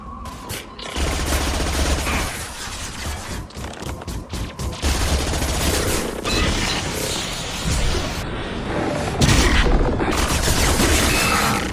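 Heavy gunfire in the Mass Effect 2 sci-fi shooter: sustained automatic bursts and rapid single shots rattle almost without pause, loud and close, mixed with crashes and booms as the firefight continues.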